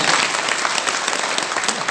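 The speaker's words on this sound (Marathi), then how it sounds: "एकदा सर्वांसाठी एकदा जोरदार टाळ्या होऊ द्या" A large audience breaks into loud, sustained applause at a public gathering, with dense continuous clapping throughout.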